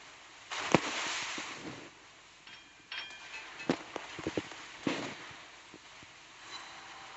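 A battleship's secondary guns fire repeatedly at cruisers in the naval game Naval Creed, producing scattered sharp cracks and thuds at irregular intervals over a low ambient hum.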